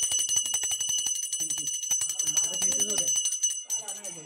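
A small hand bell rings in a steady rapid jingle during a housewarming puja in a Konkan home. Voices talk over it partway through.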